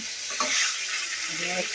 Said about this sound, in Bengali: তেলে সুন্দর করে ভাজছি